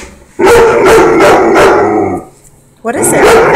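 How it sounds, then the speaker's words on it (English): A dog barks and yips loudly and close by in a quick string of bursts, goes quiet briefly, then barks again. "What are you barking at?"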